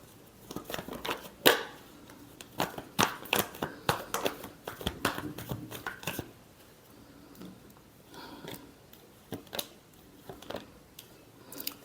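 Tarot cards being shuffled by hand in quick bursts of crisp riffling and slapping, loud and close, with pauses between rounds and quieter card handling toward the end.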